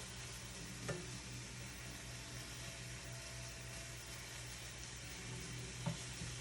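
Food sizzling in a frying pan on a home stove as it is flipped, a steady close hiss with two brief knocks of the pan.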